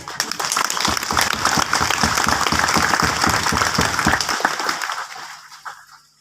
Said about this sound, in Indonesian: Mari kita beri aplaus untuk panitia tadi.